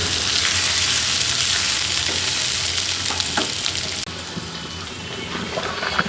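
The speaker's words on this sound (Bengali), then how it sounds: "পেঁয়াজের সাথে ভাজা হয়ে যাক" Potatoes and onions frying together in a pan, a loud continuous close sizzle with occasional stirring scrapes, briefly dipping in intensity partway through before carrying on, no voices.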